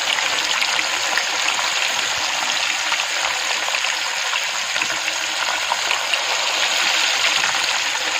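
Fish pieces fry in hot mustard oil in a small kadai, giving a dense, steady sizzle and crackle that stays constant without pauses, with no voices.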